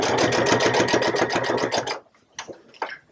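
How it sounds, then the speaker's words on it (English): A sewing machine stitches around a quilted trivet with a 1/4 inch seam, running in a fast, even rhythmic chatter for about two seconds before stopping, followed by a couple of faint clicks and handling sounds. "So we're going to stitch all the way around using that 1/4 inch."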